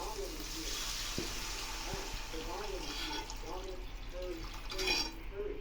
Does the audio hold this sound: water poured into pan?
yes